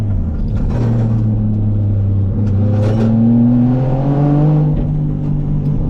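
A car engine revs on a rainy day at Ebisu, climbing and falling through several loud, close pitch sweeps over a steady rumbling idle.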